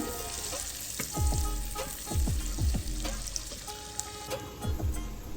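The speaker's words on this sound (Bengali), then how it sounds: "তার মধ্যে আমি আবারও পেঁয়াজ কুচি দিয়ে দিচ্ছি" Chopped onion hits hot butter and oil with cloves and other whole spices for a chicken kofta curry, a close bubbling sizzle with repeated spatula scrapes and stirs.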